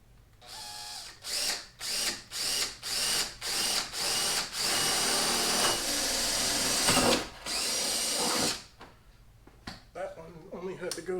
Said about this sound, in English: Drill that spot.